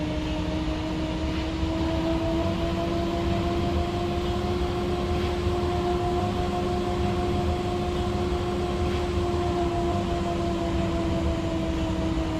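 Steady interior hum and electric motor whine of an airport transit train running between terminals at Westwood, a continuous even drone with sustained tonal whine throughout, no talk.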